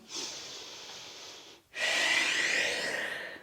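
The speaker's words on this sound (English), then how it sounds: "And exhale." Exhaled breath during a yoga routine: two long, steady breathy rushes of air, the second stronger and more forceful after a brief pause, close and clear with no talking.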